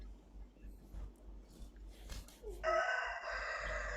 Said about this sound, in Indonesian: Nah, tuh ayam dah bekokok dah.